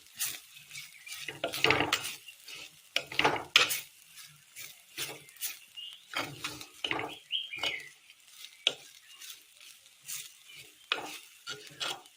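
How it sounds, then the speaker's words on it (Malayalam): Repeated scraping strokes of a spatula stirring fried chicken in a sizzling pan, in irregular bursts with quiet gaps between them. "ഇനി ഇതിലേക്ക് നമ്മൾ വറുത്ത് വെച്ചിരിക്കുന്ന ചിക്കൻ ഇട്ട് കൊടുക്കാം"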